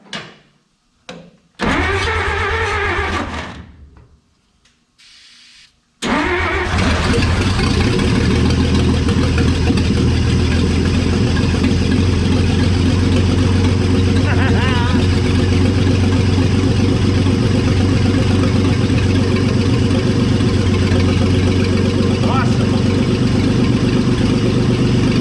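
A 1956 Dodge engine, off the road for 34 years, cranks briefly, stalls, then fires and settles into a loud, steady, rumbling idle that continues alone for about twenty seconds, close to the listener.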